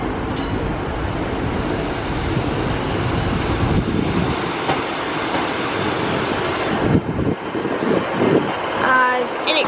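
A Class 150/4 diesel multiple unit pulls into a chilly Leeds station, its rumbling wheels and engine rolling steadily past at close range amid wind buffeting, with a brief squeal near the end.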